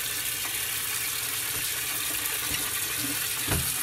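Tap water running steadily to rinse kale and other vegetables, a continuous close splashing rush with a few soft knocks, and no talking.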